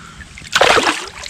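A freshly caught fish is dropped back into the water during autumn predator fishing, making one short, close splash after a quiet moment.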